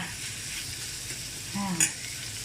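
Fish larb made with catfish stir-frying in a pan gives a quiet, steady sizzle with soft stirring, a brief clink of a utensil near the end, close and with no talking.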